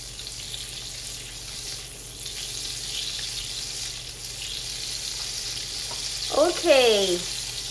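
Butter melting with olive oil in a frying pan, a low continuous sizzle under light kitchen background noise, followed near the end by a short burst of squeaky, chirping clatter.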